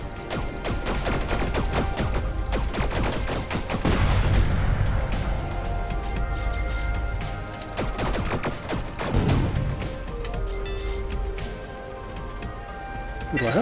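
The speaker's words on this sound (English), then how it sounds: "here's the railgun. Long recharge. And then here is the spread pulsar." Rapid bursts of heavy sci-fi gunfire from the railgun and spread pulsar in the game Sublevel Zero, with booming impacts and crackling blasts over a dense electronic soundtrack.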